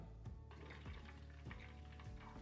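Gond (edible gum) fries in hot ghee in a home kitchen, giving a steady close-up sizzle broken by scattered sharp little pops as the pieces puff up.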